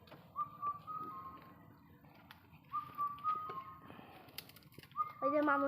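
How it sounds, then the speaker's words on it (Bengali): Village birds call outdoors in the countryside with clear whistled notes repeated three times, fairly faint against a hushed rustling background and murmuring voices. "পাখি ডাকে, গ্রাম অঞ্চলের পাখি।"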